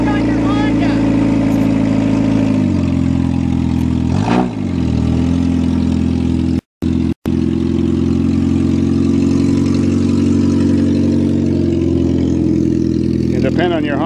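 A Toyota Tercel that has sat unused for months, running loud and close with a steady rough engine note and a couple of revs, a voice speaking over it at times.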